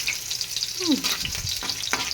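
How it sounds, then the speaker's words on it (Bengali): Green and dry chillies crackle and hiss in hot oil as they are stirred, a brief close sizzle with scraping and a couple of sharp pops. "এই যে যখন শুকনো লঙ্কা কাঁচা লঙ্কাটা ভাজা ভাজা হয়ে গেল"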